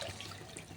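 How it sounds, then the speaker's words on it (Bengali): A little water pours into a banana blossom kofta mixture, a brief steady trickle close by that fills the whole moment with a soft, continuous wash of liquid. "এবার দেব সামান্য পরিমাণে জল।"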